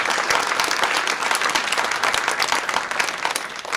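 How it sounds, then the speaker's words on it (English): Comedy club audience breaks into close, lively applause, with crisp individual claps crowding together in a steady burst from a small room. "give yourself a round of applause."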